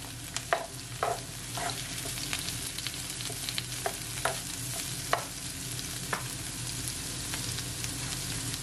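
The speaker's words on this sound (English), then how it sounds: "Just gonna leave it, guys, for at least 30 seconds or so to saute" Seafood chow mein sautés in a pan with a steady close sizzle, broken by irregular clinks and scrapes of stirring throughout, no voices.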